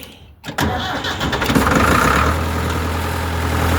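A Ford 5600 tractor engine cranks briefly, catches, and settles into a steady low idle that keeps running to the end.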